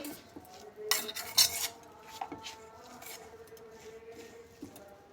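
A spoon stirs and scrapes bread pakora stuffing seasoned with garam masala in a metal bowl, giving a few close clinking and rubbing strokes before softer, quieter scraping.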